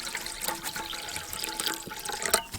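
Water poured into a chicken waterer, a steady close splashing and trickling stream with faint drips, no talking.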